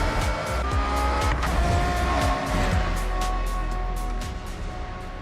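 Race cars in the racing game Forza, engines roaring loudly and steadily with tire squeals and a car sweeping past, continuous for several seconds with no talk.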